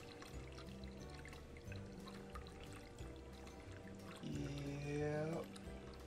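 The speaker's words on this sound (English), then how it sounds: "We got our rice wash water. I'm just gonna go ahead, put that all in." Rice wash water poured into a container, a faint trickle that rises and swells toward the end over a low background hum.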